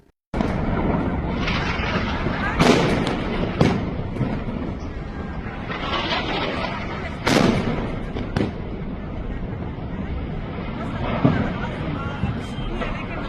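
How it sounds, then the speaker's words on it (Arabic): News footage of explosions from an Iranian strike in Riyadh, a dense continuous rumble with several sharp booming blasts standing out, distant and loud. "ضربة إيرانية دقيقة بقلب الرياض"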